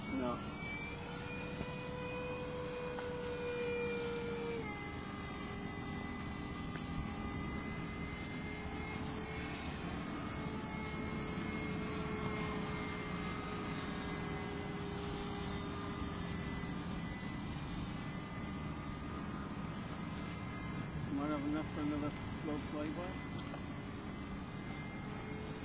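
Model F-5 jet aircraft flying at an airfield at Llandow, a sustained engine whine with shifting pitch as it passes, steady and moderately distant, with people talking intermittently over it.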